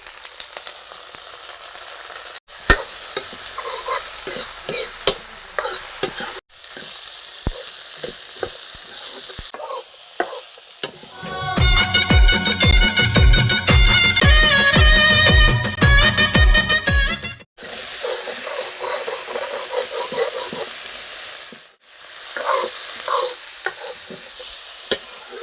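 Onions fry in hot oil in a wok with a steady sizzle, punctuated by sharp scraping stirs, while a stretch of loud music plays over it midway.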